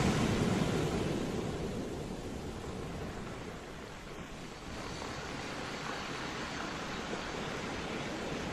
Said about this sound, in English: As the ocean waves soothe you